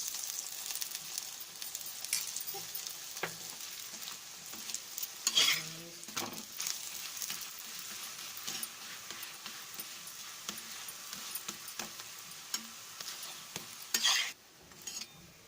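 An onion paratha frying in oil on a pan, a soft continuous sizzle with occasional spatula scrapes and a couple of louder clattering moments, close but quiet, no speech.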